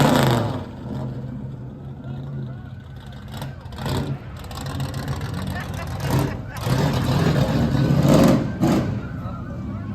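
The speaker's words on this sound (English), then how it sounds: "Thank you for bringing your truck here today." A truck drives past in a classic car parade at the Daniel Boone Festival, its engine rumbling loud and close with bursts of revving and hiss, while crowd voices and chatter carry on around it.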